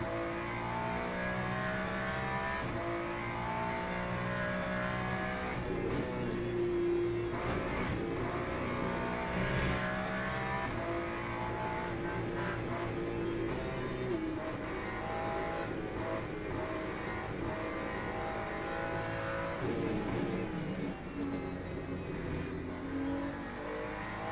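Ferrari GT3 race car in the Le Mans Ultimate racing game, its engine droning steadily and loudly throughout, with pitch rising and falling through gear changes and no one speaking.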